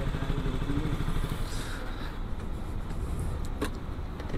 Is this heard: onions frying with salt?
no